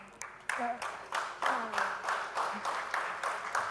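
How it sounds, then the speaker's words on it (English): An audience at the e4m NEONS OOH Awards 2018 applauds the awards jury, with steady rhythmic clapping bursts mixed with a few voices. "I think we deserve a much bigger round of applause, yes?"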